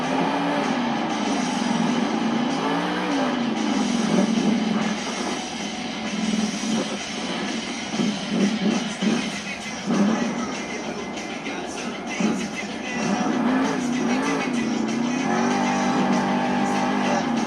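A monster truck engine roars continuously in an indoor arena during a big sky wheelie at a Monster Jam arena show, loud and sustained with revving swells under crowd noise and announcer talk.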